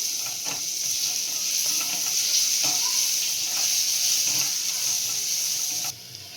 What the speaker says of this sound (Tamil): தனியாத்தூள், மஞ்சள் தூள், பெருங்காயம் எல்லாம் சேர்த்து நல்லா மிக்ஸ் பண்ணிடலாம்.